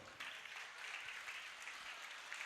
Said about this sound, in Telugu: సో మన భారతదేశంలో ఉన్నటువంటి అందరి రైతులకి ఒక్కసారి మనం చప్పట్లు కొడదాం